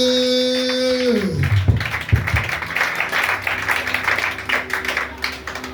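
Church congregation applauding and acclaiming the Lord during a French-language sermon, a sustained organ chord fading out as scattered clapping and cheering voices swell into a lively, continuous burst.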